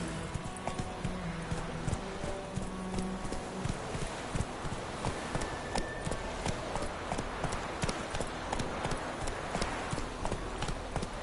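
Roach, the horse from The Witcher 3, gallops in a fast, steady clip-clop of hoofbeats that continues throughout, close and distinct, with occasional game sounds mixed in.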